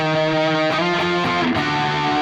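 A distorted electric guitar plays sustained arena-rock lead notes, changing pitch a couple of times, with a thick, saturated tone and delay echo trailing off.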